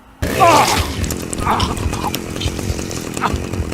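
A chainsaw roars loud and close during a brutal killing in Rockstar Games' Manhunt. The engine whines in a harsh sustained drone with sharp surges and a voice shouting over it.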